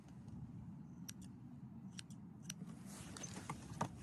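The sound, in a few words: straight scissors trimming a Bernese mountain dog's fur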